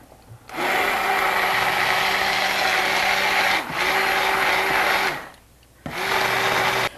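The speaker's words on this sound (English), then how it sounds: "I've kind of finished using this whole immersion blender thing" An immersion blender whirs steadily through meatball sauce in a home kitchen, running loud and continuous in two long bursts with a short dip between and a brief pause before restarting.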